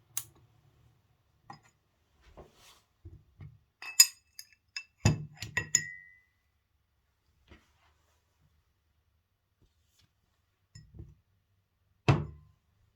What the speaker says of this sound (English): After it has dissolved, I'll remove the stir bar and then put the beaker to the side.